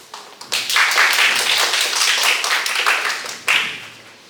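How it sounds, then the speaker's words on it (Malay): An audience in a school hall claps for a contestant at a national high-school Malay-language speech competition, the applause starting suddenly, continuing with dense, bright, close-sounding claps, then dipping before a fresh burst near the end. "Sila beri tepukan gemuruh."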